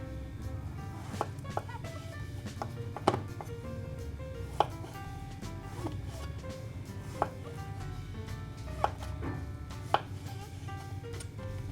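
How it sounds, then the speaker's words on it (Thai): A kitchen knife chops eringi (king oyster) mushrooms on a cutting board, giving sharp, irregular taps spread through the clip over a steady low background hum, with no talking. "เห็ดออรินจิหั่นปลายออก"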